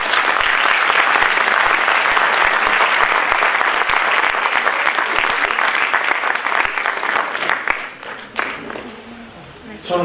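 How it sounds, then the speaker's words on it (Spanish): Audience at a lecture on twenty-first-century constitutionalism applauding a guest speaker, with dense, loud clapping holding steady for about eight seconds before thinning out and fading near the end. "pedir para el doctor Francisco José Paoli Bolio un fuerte aplauso"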